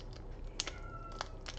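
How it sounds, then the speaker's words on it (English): A sad cat meows faintly from a distance in a quiet room, with two brief high calls and a thin drawn-out tone between them, all soft against low background hum. "That's the meow that he makes when he has to go to the vet. Like, that's a mournful meow."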